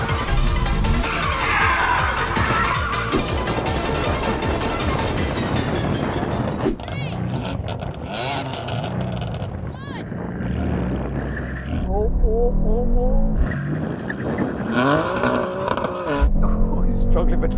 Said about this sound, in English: So I've just got to do the right thing and do some donutting in this.